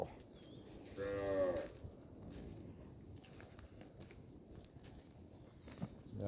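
A cow injured in a highway accident, kept at a cattle shelter, gives one moderately loud drawn-out moo early on, then low outdoor ambience with faint shuffling fills the rest.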